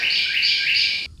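A person imitates bird chirping with a steady, bright whistled trill that runs continuously for about a second before cutting off abruptly, with no other sounds.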